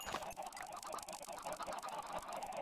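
Dense, continuous clucking from a crowd of chickens in a video game, steady and busy throughout with a faint synthetic quality, no talking.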